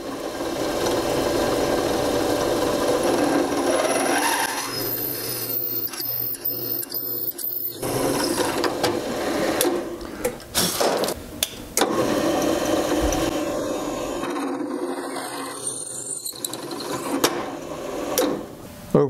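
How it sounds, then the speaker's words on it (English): A 3/8 inch drill bores holes in art clock parts with a grinding, rasping machine whine that comes in bursts, broken by short pauses and clunks between cuts. "So now I'm going to start with a 3/8 inch drill and work my way up."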